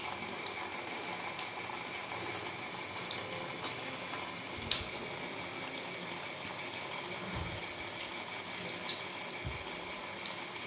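Medu vada batter made from semolina frying in a kadhai of oil, giving a steady bubbling hiss with occasional soft pops and clicks throughout.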